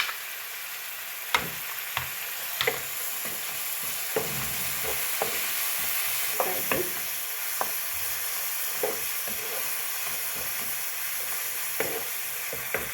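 Vermicelli upma with lemon squeezed in is stirred in a pan, a steady soft sizzle under repeated scraping and tapping strokes of the spoon against the pan, close and alone.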